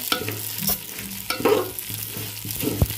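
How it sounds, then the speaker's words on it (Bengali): Unwashed rice and lentils fried in a pan for khichuri, giving a close, steady sizzle with a few scraping stirs and occasional knocks. "এবার ভালো করে চালটা ডালটা ভালো করে ভেজে নেবো"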